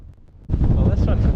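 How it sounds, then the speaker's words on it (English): Cold wind gusting across an open hilltop, starting as a light rustle and then suddenly roaring into the microphone as a strong, steady buffeting blast. "No way I'm sitting up here right now with that wind."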